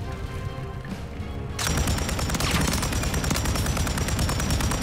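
Rapid machine gun fire from an LMG in a shooter video game, a dense unbroken stream of loud, close shots that starts abruptly partway in, with quieter game sounds before it.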